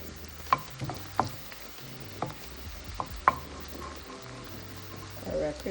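Scallion sautéing in oil in a pan for a Jamaican saltfish cook up, a steady soft sizzle with a few sharp clinks of a utensil against the pan spaced through the clip.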